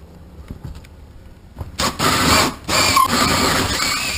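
A power drill bores a pilot hole for a hole saw, starting with a few faint clicks before bursting into a loud, whirring run with a brief pause midway, then drilling on steadily.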